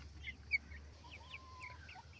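Soft, scattered clucks and short calls from egg-laying hens, fairly faint, over a quiet low background hum.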